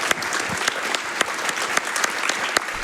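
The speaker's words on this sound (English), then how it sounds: "can that get a round of applause right here?" An audience at a Summer Games Done Quick speedrun event applauds, dense sustained clapping with sharp individual claps popping out, close and continuous with no talk.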